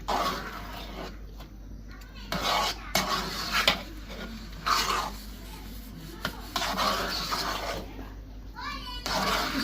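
A sweet cooking in ghee in a pan, stirred continuously with a ladle that scrapes and rubs against the metal in uneven bursts, while voices speak in the background.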